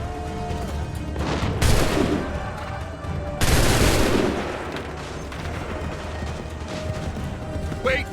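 A volley of musket gunfire in Assassin's Creed III, with two loud, broadband bursts, the second longer, set against steady battle ambience.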